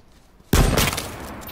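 Gunfire in the video game H1Z1 erupts suddenly as a sharp, loud burst with a ringing, rumbling tail that slowly decays over about a second.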